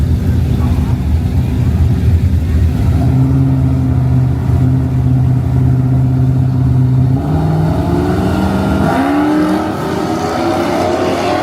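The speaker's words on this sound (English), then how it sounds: "He's racing a green square body Dakota." A green square-body Dakota drag races a Dodge Challenger, loud engines roaring and revving hard as the cars accelerate down the strip, with a rising tone and a gear change, heard close and steady throughout.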